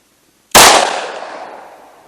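A single loud .45 ACP shot from a Colt Compact 3.5-inch 1911 pistol, a sharp close crack after brief silence, followed by a long ringing decay.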